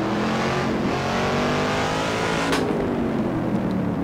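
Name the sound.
car accelerating on a hill climb racetrack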